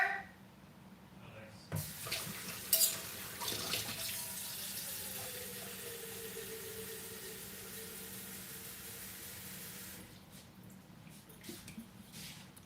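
Water runs steadily from a kitchen tap while tea is made, a soft continuous hiss under brief clatter at the start and fading near the end.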